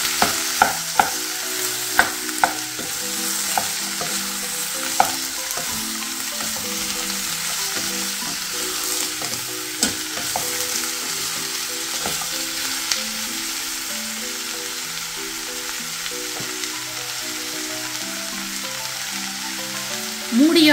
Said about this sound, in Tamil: வெட்டி வச்சிருக்கிற தக்காளி காயை போடணும். மிக்ஸ் பண்ணி விடணும்.